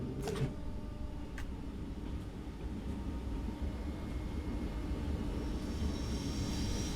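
A Class 377 electric train departs from Seaford station in the Train Sim World 2 game, producing a steady low rumble and hum with faint high squeals, continuous and moderately distant.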